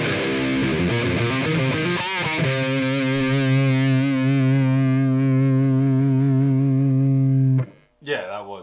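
A distorted electric guitar through an Amplitube Soldano SLO-100 amp model plays a chugging riff, then rings out on a long sustained chord that cuts off abruptly, loud and close.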